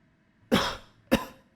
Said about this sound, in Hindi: आपको खांसी आ रही है